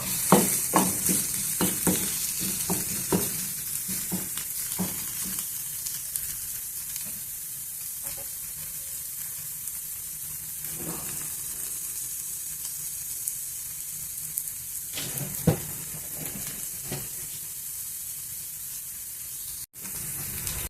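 Chopped onion sautéing in a pan for a radish (mullangi) parota filling, a continuous soft sizzle broken by repeated scraping stirs of a spatula, busier at the start and sparser later.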